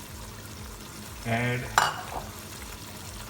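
Sauce and water poured into a cooking pot of chicken and spinach saagwala, a brief splashing pour over low kitchen sizzle, with a voice speaking around it.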